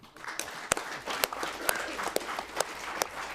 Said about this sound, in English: Can you give him a big clap?